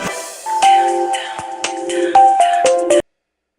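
A mobile phone rings with a melodic, chiming ringtone for about three seconds, then cuts off abruptly into silence.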